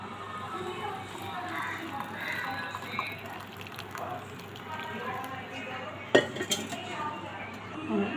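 A pot of boiled tea comes off the stove and is poured into a cup: a sharp metallic clatter and a few clinks rise over continuous kitchen noise and a speaking voice.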